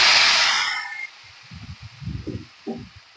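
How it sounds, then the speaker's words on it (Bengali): Taro greens dropped into hot oil with reddened fried garlic, a loud hissing sizzle that bursts up and fades within a second, followed by soft rustling and stirring knocks. "রসুনটা আমার লাল করে ভাজি হয়ে গেছে এখন এর মধ্যে এই কচু শাকটাকে ঢেলে দেব"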